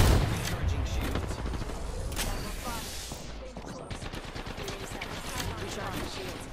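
Rapid bursts of gunfire in a video game battle royale fight, dense and continuous volleys with a loud blast near the start, mixed with game noise and faint voices.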